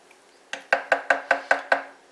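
A spoon knocks against the side of a pot of pinto beans made from six-and-a-half-year-old stored dry beans, seven quick close clinks in an even rhythm with no talking.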